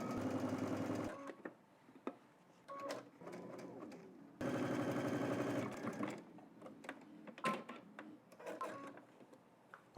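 A sewing machine stitches fabric along a guide and pivots at the corners. Two loud bursts of steady running are followed by quieter intermittent clicks and short runs.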